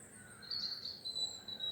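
Birds sing beside a canal in the countryside on a warm day, with repeated high chirps and tweets over a faint, steady outdoor background.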